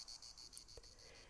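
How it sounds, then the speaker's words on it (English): Crickets chirp in a steady, continuous high trill on a Tuscan summer evening, faint and distant, with no voices. "when they will slowly give space to crickets and frog symphony."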